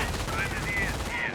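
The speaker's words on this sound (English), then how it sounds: "We do now have a flamethrower getting hit by the MG42." An MG42 machine gun fires in the World War II strategy game Company of Heroes, a short dense burst of rapid rounds.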